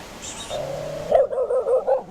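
A dog barks and whines up close, a drawn-out yelp followed by a short run of quick barks near a waterfall trail, alone without talk.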